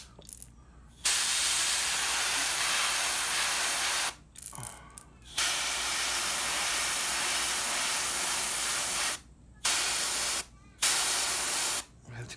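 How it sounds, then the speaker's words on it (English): A loud air compressor runs in long sustained stretches of steady hissing, broken by a few brief pauses, while a red perch pattern is airbrushed onto a fishing lure. "Sorry about that compressor, guys. Yeah, it's very loud."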